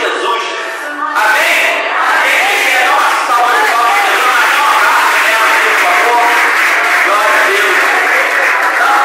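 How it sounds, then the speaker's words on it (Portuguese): A church congregation at a gathering for single, widowed and divorced members applauds loudly and continuously, a thick wash of clapping with cheers and voices mixed in that builds after the first second and holds steady. "É uma salva de palmas"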